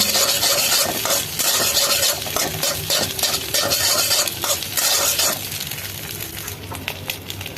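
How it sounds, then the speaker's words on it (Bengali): Egg is scrambled and fried in hot oil for fried rice, a loud continuous sizzle under rapid scraping and stirring strokes of a utensil in the pan that eases off near the end. "আমি একটু ডিমটা গুঁড়া গুঁড়া করে নিচ্ছি এভাবে তেলের মধ্যে।"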